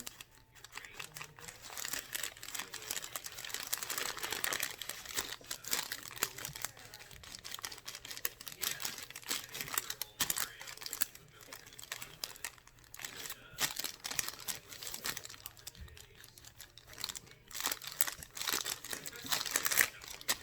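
Parchment paper crinkles and rustles as it is pressed and wiggled over a label on a school backpack, a close, uneven stream of soft crackles and scrapes with brief pauses.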